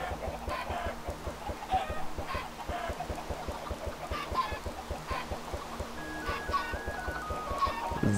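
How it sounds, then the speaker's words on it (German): Chickens clucking in the Minecraft video game, a dense flock giving rapid overlapping clucks and squawks throughout, fairly loud and close, with no talking. "Die Hühner werden immer anstrengender."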